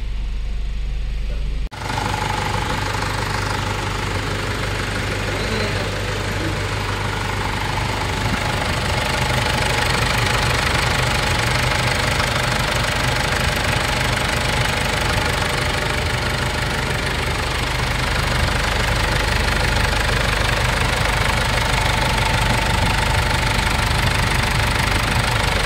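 A 2011 Ford Everest engine idling after a camshaft sensor and timing belt repair, a steady close mechanical rumble with a light ticking knock that starts abruptly and runs evenly throughout.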